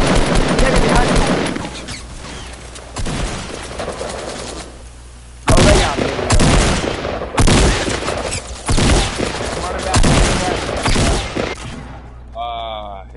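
Gunfire and shotgun blasts in a Fortnite match, with repeated loud bursts of shots in clusters separated by short gaps, close and dominant, while players talk over the shooting.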